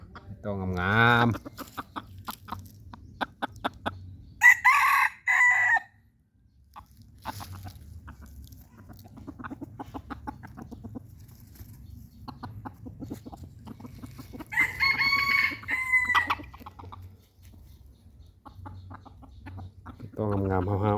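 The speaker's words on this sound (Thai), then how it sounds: "ไก่ต่องาม" A decoy fighting rooster crows several times close by, long strained calls separated by clucks and quieter barnyard noise, with other birds faintly in the background.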